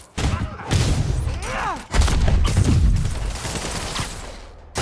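Gunfire in Marvel's Spider-Man, dense bursts of shots and thuds rattling continuously up close amid whooshing action effects and shouting voices.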